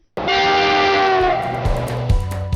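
Train horn sound effect, one sustained loud blast that begins abruptly and then fades, followed by a short rattle of rail clatter.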